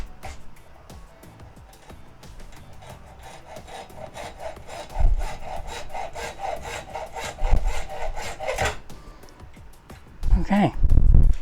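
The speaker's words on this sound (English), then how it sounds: "let's cut this knob off." A hand saw cuts through a knob in a run of quick, steady back-and-forth strokes, close and clear, with a few louder knocks and scrapes as the cut finishes.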